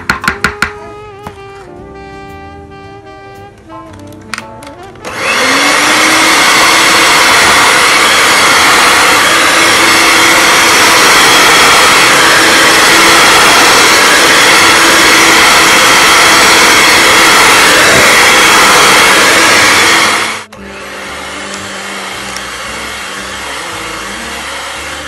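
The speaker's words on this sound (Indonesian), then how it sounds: "hand mixer yangu." An electric hand mixer runs steadily for about fifteen seconds, beating soft doughnut dough, with a loud, continuous whirring drone that starts abruptly and cuts off, with quieter kitchen sounds before and after.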